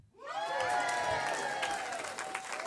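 Audience applause and cheering swell quickly and hold steady, a dense crowd of clapping hands with some shouts mixed in.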